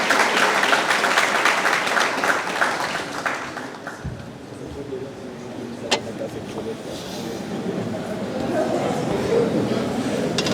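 A graduation ceremony audience applauds, with a burst of mixed clapping and crowd noise for the first few seconds that fades into room murmur and voices, with a brief knock partway through.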